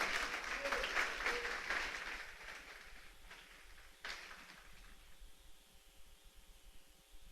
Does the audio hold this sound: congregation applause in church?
yes